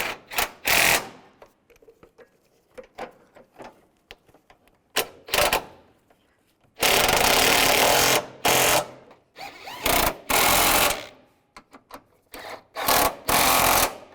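A power ratchet or impact tool tightens bolts during a radiator replacement on a 2006-2011 Cadillac DTS, loud rattling bursts of varying length starting and stopping repeatedly, close by, with quiet gaps between.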